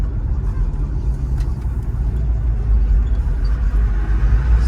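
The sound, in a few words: 1973 Chevrolet Chevelle SS 350 engine driving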